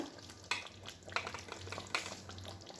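A brinjal curry with curd and mustard bubbles gently in a pan, a faint, low sizzle broken by a few soft stirring scrapes at roughly even intervals.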